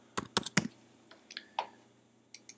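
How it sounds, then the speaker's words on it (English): Several keystrokes on a computer keyboard while a computer name and share name are entered during a network file system setup: a quick burst of three sharp clicks, then scattered lighter taps, close and clear with no talking. "we type in the name of the computer and then the share name"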